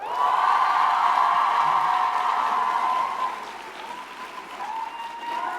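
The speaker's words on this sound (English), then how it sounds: "I want you to give a big round of applause for each one" Audience applause at a TwitchCon panel, a large convention crowd clapping loudly and steadily for a creator's introduction, easing slightly toward the end with a few scattered cheers.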